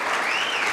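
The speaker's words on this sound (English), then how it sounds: "give a round of applause" Audience applause fills a chamber of commerce awards ceremony, a dense, steady burst of clapping from a crowd that stays loud and even throughout.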